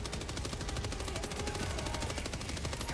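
Rapid, continuous gunfire from a marksman rifle in the video game Helldivers 2, dense overlapping shots filling the whole stretch at steady loudness, with no talk over it.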